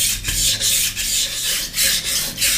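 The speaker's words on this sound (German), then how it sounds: "Es ist wichtig, dass ihr die ganze Klinge über den Stein zieht." A knife blade is drawn along a whetstone in steady, even strokes, each a close scraping rasp separated by short gaps, about six strokes with no talking.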